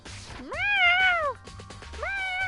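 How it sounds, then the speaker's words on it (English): A nearby cat lets out two meows, a long rising-and-falling one and a shorter one, over a low background hum. "Hey, you meowing at me, I really don't want you."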